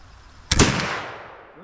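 A flintlock rifle fired outdoors in the rain: a sudden loud, close blast followed by a long rolling decay that fades over about a second.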